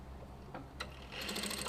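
A sewing machine starts understitching through bias binding and seam allowances, a brief burst of fast, light mechanical ticking after a couple of soft clicks, quiet and close.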